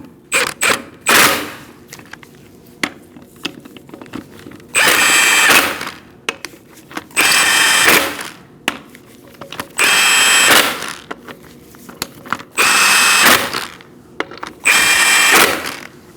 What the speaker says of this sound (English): You're going to tighten your lug nuts in a crisscross manner using a 19mm socket.